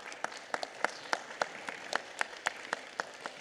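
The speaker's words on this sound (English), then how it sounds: "Please give her a big round of applause." Applause from an audience at a Los Angeles County Board of Supervisors meeting, a thin, scattered run of individual claps at a moderate, uneven pace, fairly distant in a large room.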